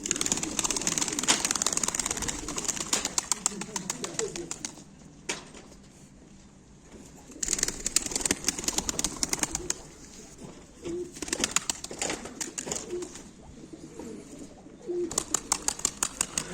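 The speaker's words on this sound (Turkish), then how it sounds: "Kuşlar bunlar arkadaşlar." Tumbler pigeons cooing at a live auction, soft repeated coos mixed with bursts of wing flapping and rustling, close and intermittent with quieter gaps between.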